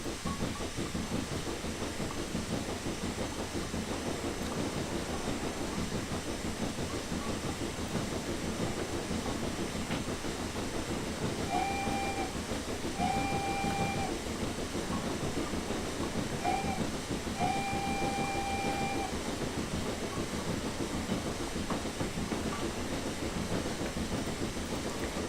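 A train in the Train Simulator 2018 game gives a continuous rumbling hiss throughout, with a few short tonal beeps sounding midway, and no voices.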